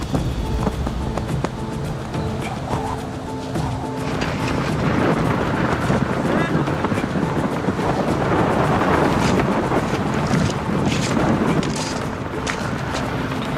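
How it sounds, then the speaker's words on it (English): Loud, steady roaring wind buffets the microphone, carrying gravel with a dense rushing, scattering texture throughout and no pauses. "You can hear the roar of the wind and the gravel being brought towards you."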